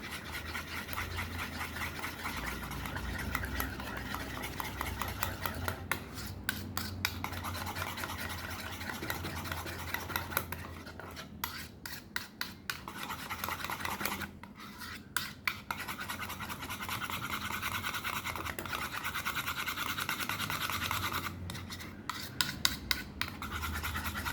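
Eggless banana fritter batter being mixed by hand, a steady scraping and rubbing of spoon against bowl with repeated stirring strokes and brief pauses, close and fairly quiet.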